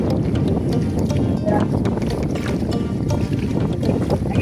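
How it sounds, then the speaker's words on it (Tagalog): Strong wind roars steadily over a small fishing boat at sea, a dense constant rush with microphone buffeting and faint knocks, loud and unbroken throughout. "Sobrang lakas ng hangin."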